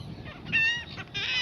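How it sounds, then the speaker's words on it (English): Seagulls squabble on the Gulfport, Florida shore after nuts are tossed out, giving a few sharp, nasal calls close by over a low outdoor background. "These are seagulls."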